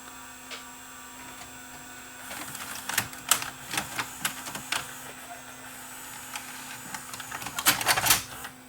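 The tape-loading mechanism of a Toshiba M750 VHS recorder with a tape-eating fault and a suspected bad mode switch runs back and forth, giving faint whirring and a series of sharp mechanical clicks over a low mains hum.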